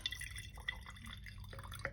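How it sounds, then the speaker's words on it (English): White vinegar is poured from a bottle into a container for a paper craft. The sound is faint and close, with soft trickling and a few light drips against low background hiss. "I'm going to try to pour this without spilling."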